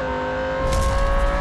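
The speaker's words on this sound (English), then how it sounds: "this is where the Sylvia's gonna start accelerating" A Silvia race car accelerating in the Real Racing 3 video game, its engine holding a steady tonal drone that swells and brightens slightly partway through, loud and continuous with no other sounds.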